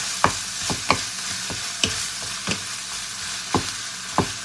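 Garlic and minced meat stir-fried in a pan for a basil stir-fry with konjac noodles, a steady sizzle broken by about eight sharp spatula scrapes at irregular intervals, close and fairly quiet, no voices.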